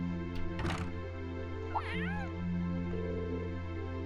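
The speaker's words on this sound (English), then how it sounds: "Was it a cat I just heard?" A cat meows once in the video game Trails of Cold Steel, a soft mid-clip call heard over a steady game music bed with a brief thunk early on.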